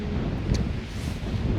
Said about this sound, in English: so you just get blasted in your face by the wind